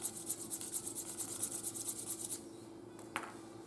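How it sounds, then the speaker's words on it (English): A craft piece being hand-sanded in quick, regular back-and-forth strokes, a close, soft, rasping hiss that stops partway through, followed by a single brief scrape. "There's a little bit more sanding, and then it'll be ready to go on the back."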